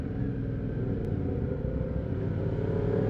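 Aprilia Shiver 750cc V-twin motorcycle engine running with a steady, loud low rumble and no sharp revs, a continuous drone with no talking over it.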